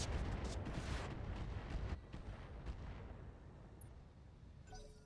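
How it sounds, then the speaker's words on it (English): Mech weapons firing all at once in the video game BattleTech Flashpoint: a dense, loud barrage of booming blasts for about two seconds, then a rumbling tail that slowly fades. "Firing all weapons."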